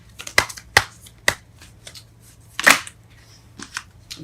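Tarot cards drawn and flicked from a deck during a love reading, giving several sharp, close papery snaps spaced apart over a quiet background, the loudest one near the end.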